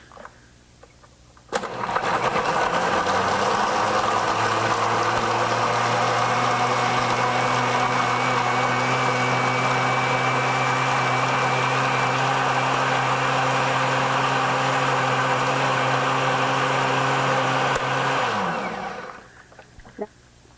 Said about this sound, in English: Now I'll put it on blender.